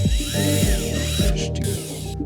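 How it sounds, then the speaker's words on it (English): A small drill with a 1/8-inch bit whirs in short bursts, boring a pilot hole in thin plastic, its pitch rising and dipping as it bites in close by, with no talking. "I'm gonna take a 1/8 drill bit just to do a small pilot hole"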